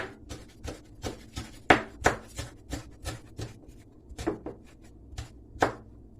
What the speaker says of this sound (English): so I will just slice it